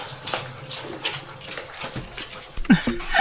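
Puppies panting and letting out small whimpers close by, with a few clattering knocks toward the end.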